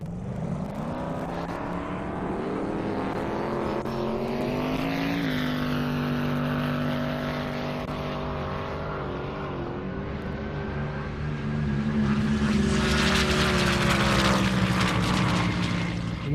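A white C7 Corvette drag car roars down a half-mile airport runway at over 200 mph, a loud sustained engine scream with rising and falling pitch as it passes and recedes, growing louder again toward the end.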